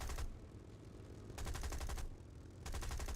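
Gunfire from a Spitfire Mk IIb in War Thunder comes as sustained bursts of rapid automatic fire that stop and restart, three dense strings broken by short gaps. The fire is steady and heavy, with no voice over it.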